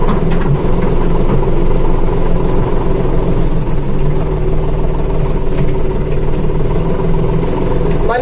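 Steady low engine drone of an Erkunt Bereket 60E tractor, a 60 hp machine, heard from inside the cab, loud and continuous with a constant rumble throughout.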